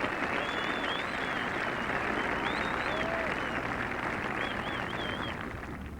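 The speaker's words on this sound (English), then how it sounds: "Tremendous applause for Ian Woosnam and Gordon Brand." Spectators at the 1986 Open Championship golf, final round, applaud in a steady, sustained wash of distant clapping lasting the whole stretch, with a commentator speaking over it.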